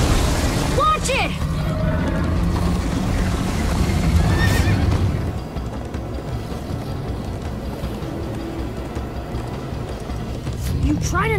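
A horse neighs in the video game Minecraft: Story Mode with a sharp, wavering whinny near the start. Rumbling hoofbeats and action noise follow, and voices talk over it.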